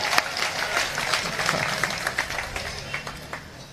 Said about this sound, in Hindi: अब आपकी तालियां उठेंगी